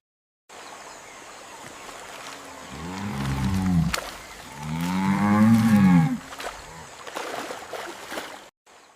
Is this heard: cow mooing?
yes